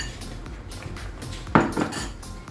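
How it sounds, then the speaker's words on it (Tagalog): A spoon stirs margarine into thick sweet potato halaya in a pot, giving soft scraping with two louder clanks of utensil against the metal near the end, close by and with no talk. "Halo ko lang yung margarine."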